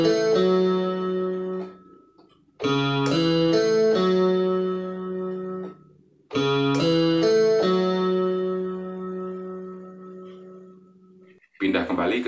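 Guitar voice on an electronic keyboard playing dangdut, a few plucked, bright chord phrases with sustained decaying notes, played alone and upfront.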